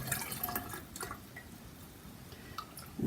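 Chicken broth pours steadily through a wire strainer into a jar, a close, quiet trickling and dripping of liquid with small splashes, no voices.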